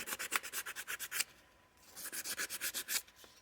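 Sandpaper rubbed by hand over the metal of an EAA Windicator .357 Magnum revolver, a rapid run of rhythmic back-and-forth strokes, a brief pause, then another quick series, close and fairly quiet.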